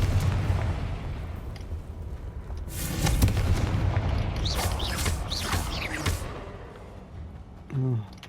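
Confringo explosion spell cast in the video game Hogwarts Legacy, several booming blasts and crackling bursts in a row, loud and close, with brief bits of a speaking voice around them.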